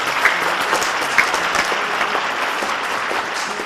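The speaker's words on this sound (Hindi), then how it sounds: "तालियां बजानी चाहिए जो बच्चे।" Children and audience clapping in a TV studio on an Independence Day special kids' show, a dense, continuous round of applause at steady loudness throughout, with no talk over it.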